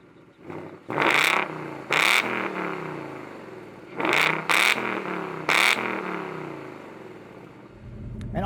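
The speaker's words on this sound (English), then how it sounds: "I'll let you guys hear that lovely V8 real quick." Ford Mustang GT V8 with an active exhaust package, in a 2019 convertible, gives five sharp, loud revs in two groups, each burst snapping up and falling back to a rumbling idle, close by with no talk.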